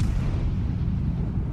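Main gun turrets of the battleship USS Missouri fire in the naval game World of Warships, a deep, heavy rumbling boom that rolls on loudly through the short moment without a break.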